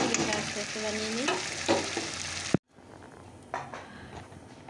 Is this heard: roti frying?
yes